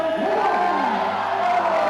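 A crowd at the Yank-N-Yard finals cheers and whoops for a competitor, a dense, continuous roar of voices with rising shouts throughout.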